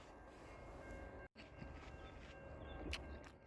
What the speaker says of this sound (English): Amtrak passing by.